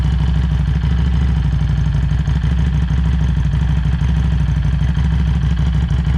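A freshly repaired engine idling at normal RPM, a loud, close, continuous low rumble with an even throbbing pulse and a faint clatter running throughout.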